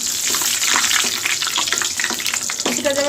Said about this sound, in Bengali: এর মধ্যে দিয়ে দেবো শুকনো মরিচ ফ্রাই করার জন্য।